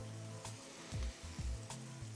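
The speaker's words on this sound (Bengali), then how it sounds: "এবার দেব আমি তেজপাতা।" Bay leaves dropped into hot oil sizzle briefly while jackfruit curry is cooked, a short, faint crackling fry with a few soft knocks of a utensil against the pan.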